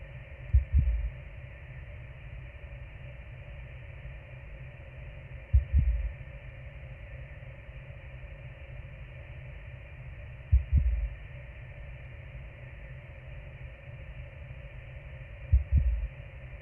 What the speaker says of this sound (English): We're gonna hear just a heartbeat again?